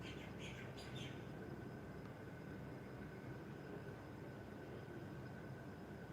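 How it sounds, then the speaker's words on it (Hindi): Faint bird chirps flicker through the first second outdoors, then fade under a steady, broad rush of cool breeze that fills the whole stretch. "ठंडी ठंडी हवा का स्पर्श, पक्षियों का मधुर गुंजन कितना सुकून दे रहा है।"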